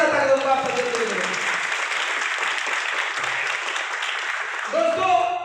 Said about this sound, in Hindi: एक बार जोरदार ताली दोस्तों आप सबके लिए।